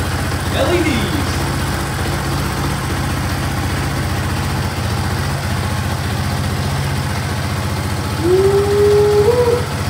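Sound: ATV engine idling

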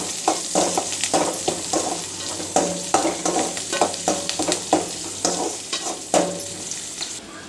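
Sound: onions being sautéed in a pan with mustard seeds

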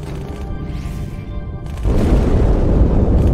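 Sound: explosion inside the ship Athens in video game Halo

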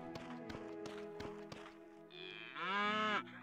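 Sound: cows mooing on a farm in the video game Potion Permit

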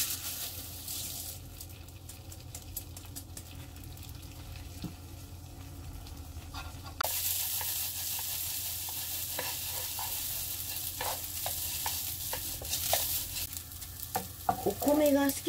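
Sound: stir-frying washed rice in a pan for shrimp pilaf

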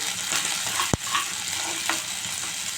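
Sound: onion frying in pan for fish curry

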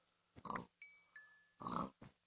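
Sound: Minecraft pig grunting, from a video game

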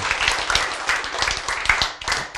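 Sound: audience clapping

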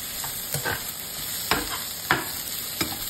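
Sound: stir-frying green and red peppers in a wok

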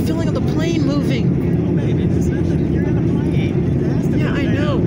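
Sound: airplane cabin noise during descent

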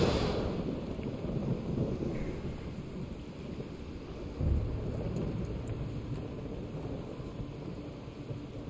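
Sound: thunderstorm in the video game God of War

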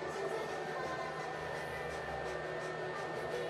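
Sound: loud PlayStation console fan noise

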